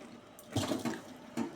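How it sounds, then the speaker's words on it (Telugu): A pot of water boils hard for cooking rice-flour batter, with bubbles rolling up. Close bursts of bubbling and gurgling come in two or three surges, with no talking. "బుడగలు రావాలి ఎసురు"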